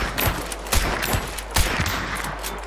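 Rapid bursts of gunfire in the video game Hunt: Showdown, several sharp loud shots cracking in quick succession over a dense, noisy game soundscape.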